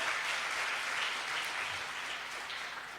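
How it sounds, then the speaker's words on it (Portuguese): Congregation clapping steadily in a church, a dense, continuous wash of applause that fades slightly toward the end, with no voices over it. "Dê uma salva de palmas a Jesus."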